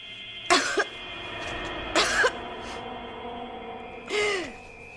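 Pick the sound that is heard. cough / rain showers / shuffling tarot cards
cough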